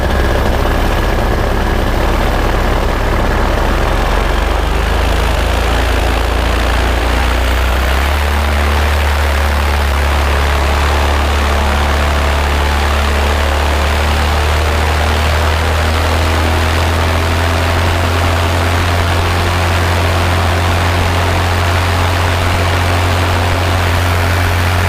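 A Virus paramotor engine runs its full-speed warm-up on the ground, a loud, continuous propeller-driven roar that climbs in pitch early on and then holds steady near the listener for the whole stretch.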